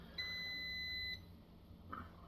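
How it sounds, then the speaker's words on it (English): A single steady electronic beep lasting about a second over a quiet room hum, followed by a faint short chirp. "I don't know what that beeping thing is"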